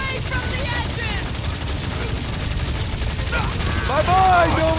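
Rapid bursts of gunfire from a Marvel's Guardians of the Galaxy video game battle sound loud and continuous, mixed with shouted character voices and game effects.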